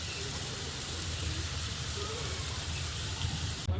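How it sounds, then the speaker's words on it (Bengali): Potatoes frying in oil in a pan, a steady close sizzle with a crackling hiss that holds evenly throughout, a brief louder clatter near the end. "ততক্ষণ আলুটা ভাজা হতে থাক"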